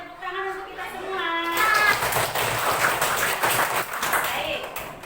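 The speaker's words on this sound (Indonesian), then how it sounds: "Tepuk tangan untuk kita semua." A classroom of fourth-grade pupils bursts into group applause: a dense, steady wash of many hands clapping for several seconds, following a brief stretch of a teacher speaking.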